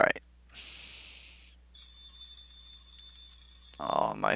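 A mobile phone alarm rings as a steady electronic tone for about two seconds, near and fairly loud, after a burst of noise; a voice starts at the end.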